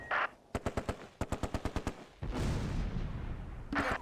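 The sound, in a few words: heavy gunfire in the video game Close Combat: A Bridge Too Far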